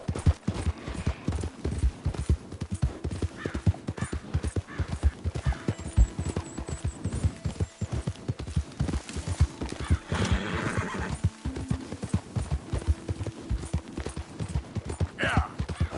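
Horse in the Red Dead Redemption 2 video game, hooves clip-clopping in a steady running rhythm with a neigh or whinny partway through, close and fairly loud under game ambience.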